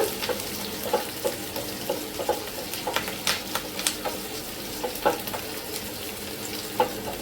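Chopped onions sautéing in oil in a pan for mutton sukka, a steady soft sizzle broken by brief scraping stirs of the spatula, with no talking.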